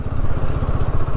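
A motorcycle engine chugs in first gear while riding off-road down a steep slope, a loud close low throb with rapid even pulses.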